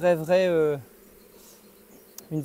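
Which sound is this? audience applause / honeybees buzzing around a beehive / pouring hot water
honeybees buzzing around a beehive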